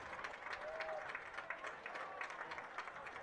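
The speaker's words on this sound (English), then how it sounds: "Oregon's faithful trying to cheer on the defense here" Oregon's home crowd at a high school varsity football game cheers on its defense, a steady broad roar of voices and clapping from the stands that holds through the whole moment with a faint whistle-like tone briefly rising above it.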